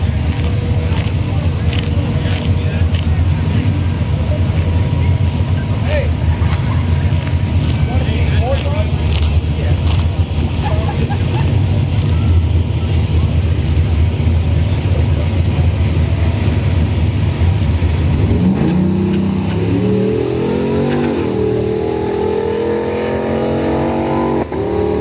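Street drag race between a Chevrolet Tahoe and an EcoBoost Mustang at a night drag event, engines roaring loudly and steadily under announcer talk, with a crowd and track din that shifts to a higher, rising engine note near the end.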